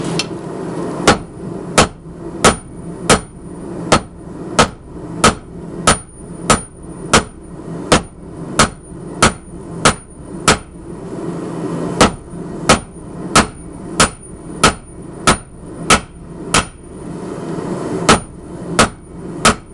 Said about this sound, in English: We're going to start forging with a heavy hammer and square it off.